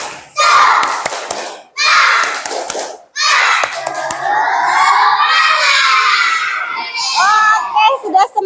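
Classroom of young schoolchildren loudly shouting a rhythmic spirit-clap chant together with claps, in bursts, a teacher's voice leading in between.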